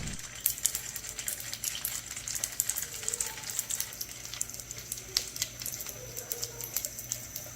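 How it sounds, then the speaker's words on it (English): Dumplings shallow-fry in oil in a frying pan over medium heat, sizzling and crackling steadily, with dense sputtering pops at close range and no talk. "Heat 2 tablespoons of oil in a frying pan and shallow fry the dumplings on medium heat"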